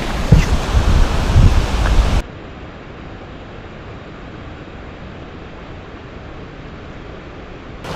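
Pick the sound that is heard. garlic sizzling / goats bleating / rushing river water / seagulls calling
rushing river water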